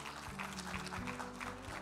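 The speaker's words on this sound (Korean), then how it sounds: "여러분 박수로 모시도록 하겠습니다." Audience applause at the 2018 BlockFesta fintech conference, welcoming a keynote speaker to the stage: steady, dense clapping from a crowd, sustained throughout at moderate level.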